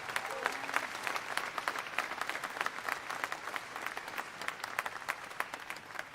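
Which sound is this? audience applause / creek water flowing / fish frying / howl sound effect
audience applause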